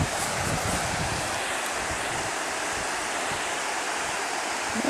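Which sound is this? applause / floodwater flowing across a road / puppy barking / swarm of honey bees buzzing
floodwater flowing across a road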